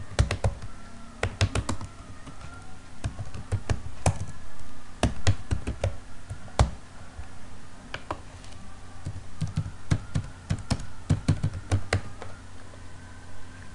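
An email address is typed on a computer keyboard while setting up a Windows 8.1 Microsoft account, close irregular key clicks in quick clusters with short pauses, alone.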